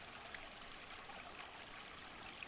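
A gentle stream of water flows steadily outdoors, a soft continuous babble and trickle at low volume with no voices over it.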